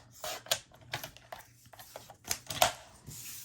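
Paper being trimmed to size for a baby album, giving a series of crisp slicing and snipping bursts at close range with quiet gaps between them.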